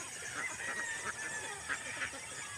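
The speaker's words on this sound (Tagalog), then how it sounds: "lahi ng itik, patiros" Patiros-breed ducks call out in a run of honking, quacking cries, several spaced calls rising over a steady background hum at moderate distance.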